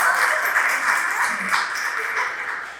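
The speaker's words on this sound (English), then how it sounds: "Her work, yes, we should clap for that" Audience clapping at an artist talk, a steady wash of applause from a crowd of hands that continues evenly for the whole stretch, moderately loud with no voices over it.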